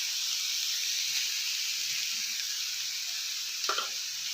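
Grated fresh coconut with milk and sugar sizzles softly in a pan as it is stirred for coconut barfi, an even, close hiss with a brief scrape near the end and no talking.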